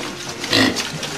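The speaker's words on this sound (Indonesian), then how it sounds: "pakan yang diberikan langsung diserbu oleh satu peranakan anakan babi yang berjumlah 11 ekor ini" Litter of eleven piglets squealing and grunting as they rush their feed on a pig farm in Papua, a busy overlapping cluster of squeals that peaks midway.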